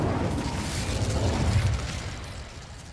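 A fire spell, Incendio, cast in the video game Hogwarts Legacy: a loud, continuous whooshing, roaring burst of flame that swells for about two seconds and then tapers off, with no talk over it.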